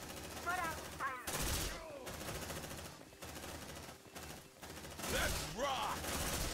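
Rapid automatic gunfire in the sci-fi video game Aliens Dark Descent, sustained bursts of shots broken by short pauses, with alien shrieks and chirps mixed in.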